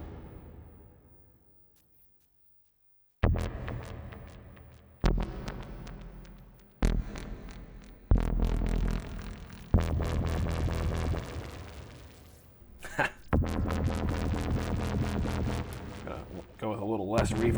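Korg NTS-1 synth through a high pass delay effect: loud, punchy notes start after a short silence, each followed by smeared repeats that blend into a dense, pulsing wash with no one talking.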